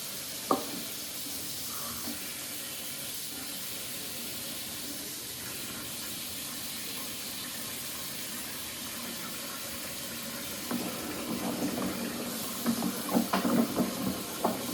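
Tap water runs steadily into a sink while dishes are rinsed, a continuous close hiss with clinks and louder splashing toward the end.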